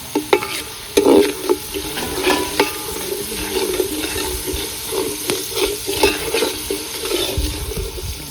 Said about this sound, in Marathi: बघा कसं आपलं वाटार तळायचं चाललंय आईचं.